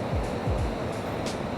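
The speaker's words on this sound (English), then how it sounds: "The power of these waves coming through and hitting these rocks." Ocean waves crash against rocks at sunset with a continuous loud roaring surge and a brief splashing burst near the end, no voices.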